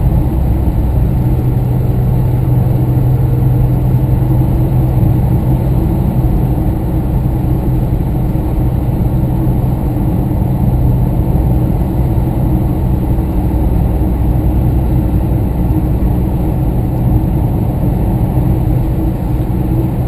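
A loud, continuous engine drones and hums from inside a Trooper, holding a steady high rev throughout with no talking.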